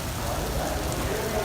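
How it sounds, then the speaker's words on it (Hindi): Steady rain falls over the old city of Multan, seen from a high vantage point, a continuous broadband hiss with soft low rumble and no distinct drops standing out. "बारिश अभी तक चल रही है"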